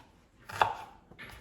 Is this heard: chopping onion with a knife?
yes